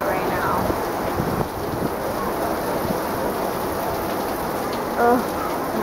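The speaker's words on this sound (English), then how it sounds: "Ugh, not a good day for rain." Rain falls steadily outdoors at a swamp airboat tour, a dense hiss of drops on surfaces holding evenly throughout, with a brief faint voice-like sound near the end.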